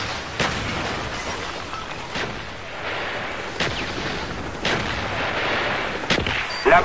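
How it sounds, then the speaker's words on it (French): Mortar strikes in Call of Duty: Black Ops land as a series of sharp blasts, about five spaced bursts over steady game background noise, with no voices present. "Coordonnées pour mortier reçu. Tir à volonté."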